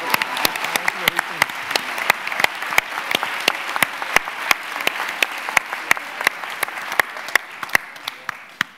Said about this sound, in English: Let us also give a great applause to the other two teams that did very well as well.